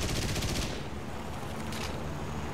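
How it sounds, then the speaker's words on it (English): An aircraft machine gun in the War Thunder combat flight game fires a rapid, dense burst of gunfire, loud and continuous with no talk. "Firing a little machine gun."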